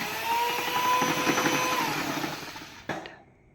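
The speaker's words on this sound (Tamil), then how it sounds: "இப்போ நம்ம பவுடர் சுகரை சேர்த்து நல்லா பிளெண்ட் பண்ணிடலாம்." Electric blender mixing powdered sugar into chocolate chip cookie dough: a steady, loud whirring motor drone for nearly three seconds, then a clunk as it stops, leaving quiet room tone.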